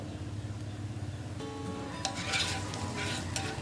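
Purple onion frying in a pan over low heat for termite mushroom soup, a steady close sizzle with bursts of sharper crackle and clinks of stirring partway through.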